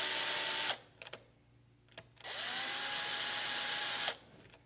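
Power drill driving sash screws on a window sash repair: two loud sustained whirring bursts, the second winding down in pitch, separated by a quiet gap with a few faint clicks and taps.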